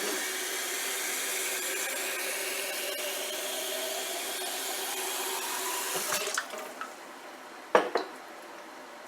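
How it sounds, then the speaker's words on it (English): Water poured into a home-canning jar holding dry beans and seasoning, a steady close pouring rush that ends around six seconds, followed by a few sharp clinks of glass and lid. "Put some water in there."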